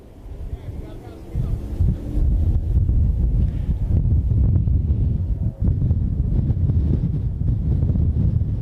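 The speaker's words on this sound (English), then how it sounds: "it's a little windy up here today at the Antelope Valley, Willow Springs International Raceway" Strong wind buffets the microphone at Willow Springs International Raceway in the Antelope Valley, a loud continuous low rumble with gusty swells that rises after the first second and stays steady.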